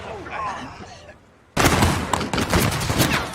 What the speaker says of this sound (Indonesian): Faraday dan Sam melatih warga untuk menembak tepat sasaran